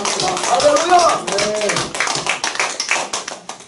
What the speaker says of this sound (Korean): 하나님 영광의 박수를 내주시면서 아멘합니다